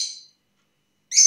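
Two short, high-pitched calls from a pet lovebird, the first fading off and the second sharp and piercing after a brief silence, fairly close.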